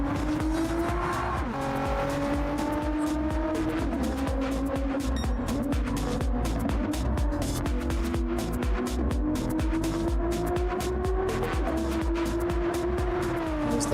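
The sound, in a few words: race car driving in a racing video game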